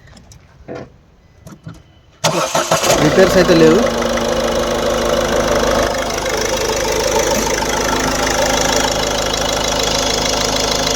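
Someone speaks briefly, then an engine cranks and catches loudly, settling into a steady, rattling idle that continues to the end.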